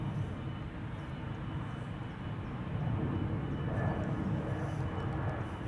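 Swiss Airbus A220-100 airliner at Amsterdam Schiphol, a faint, steady distant jet rumble that swells slightly midway, alone without talking.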